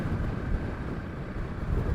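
Steady wind by the ocean roars and buffets across the microphone, a dense rumbling rush with no other clear sounds.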